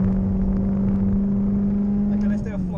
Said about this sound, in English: let's do a flying lap of Bedford Autodrome on my C4